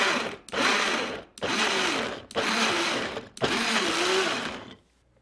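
A Vitamix blender pulsing quartered tomatoes for salsa: four loud, whirring motor bursts, each about a second long, separated by brief stops, ending in silence.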